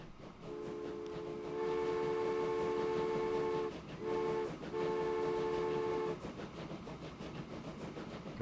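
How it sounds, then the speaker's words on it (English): A train in the Transport Fever 2 game sounds a long steady horn blast, breaks off briefly, then sounds again over a low rumble of wheels on track, with no talking. "A nice little train coming here."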